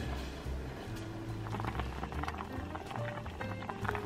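Steady bubbling and gurgling of vegetables and tofu boiling in a pot, continuous and close, with faint clinks now and then.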